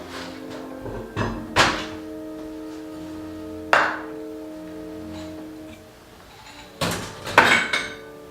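Scattered clinks and thunks of utensils against a bowl while seasoned water dropwort greens with honey and sesame oil are tossed, over a steady background hum with a tonal drone.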